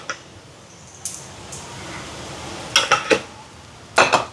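A spoon scrapes and clinks against a cooking pot while onions and spices are stirred together, giving a few sharp metallic knocks between quiet pauses.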